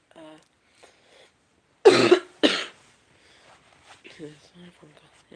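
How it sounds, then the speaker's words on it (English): Two harsh, loud coughs close by, with soft speech before and after. "sorry if I'm coughing a whole bunch"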